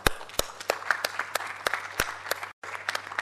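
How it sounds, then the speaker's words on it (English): Scattered applause for Professor Gopalakrishnan during a vote of thanks: a modest audience claps unevenly, with distinct sharp individual claps over a thinner bed of clapping and a low steady hum, briefly cut by a gap. "we also need to have a round of applause for Professor Gopalakrishnan"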